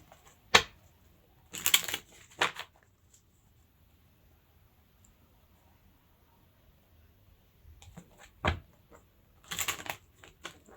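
Playing cards being shuffled in several short riffling bursts separated by quiet pauses, close and crisp.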